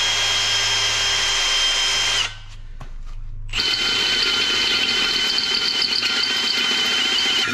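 An electric drill with a 29/64 bit whines loudly as it bores a hole through a metal wheel rim, pauses briefly for about a second, then resumes with a harsher grinding tone.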